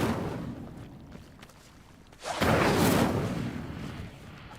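Incendio fire spell cast in Hogwarts Legacy, a sudden loud whooshing flare of flame after a quiet stretch, sustained for about two seconds before fading.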